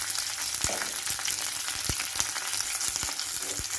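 Mustard seeds, curry leaves and a dried red chili crackle in hot oil for a tamarind rasam tempering, a steady close sizzle broken by sharp popping bursts scattered throughout.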